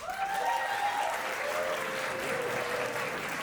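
Studio audience applauding at a comedy podcast taping, a steady wash of clapping that stays loud and even throughout with a few whoops mixed in.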